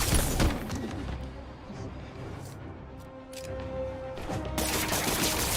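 Enemy gunfire in a Spider-Man video game, bursts of rapid shots and thuds crackling over a dense game soundscape, loud and close, with a heavier volley near the end.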